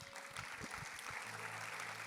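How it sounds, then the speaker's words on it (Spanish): A church congregation applauding at an anniversary service, a faint, moderate patter of clapping with a low musical drone underneath. "Dale un aplauso a Dios."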